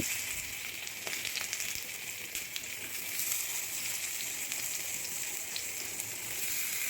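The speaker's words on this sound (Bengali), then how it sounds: "এবার ম্যারিনেট করে রাখা বেগুনগুলোকে এই তাওয়ার ওপর দিয়ে দিচ্ছি" Marinated eggplant slices fry on a hot tawa, giving a steady, fine crackling sizzle with scattered pops, even and moderately loud throughout, with no speech.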